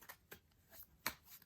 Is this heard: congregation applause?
no